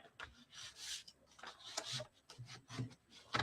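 A paper piece for a snowman gift card holder is burnished by hand, giving soft, close rubbing and scraping strokes in short uneven bursts, quiet and with no voices.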